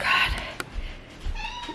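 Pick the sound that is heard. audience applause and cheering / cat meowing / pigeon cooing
cat meowing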